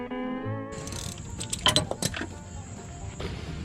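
Ratcheting wrench cranks at the harmonic balancer pulley bolt with the belt left on, giving a run of metallic clicks and clinks, a sharp cluster of louder clanks in the middle, then a steady mechanical whir, close and fairly quiet.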